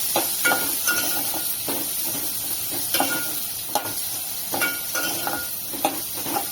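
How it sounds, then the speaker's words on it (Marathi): Onion sautéing in hot oil over a high flame, continuous close sizzling broken by rhythmic spatula scrapes and taps against the pan, no speech. "याच्यामध्ये मी सगळ्यात आधी कांदा घालते कांदा चांगला परतून घेऊया"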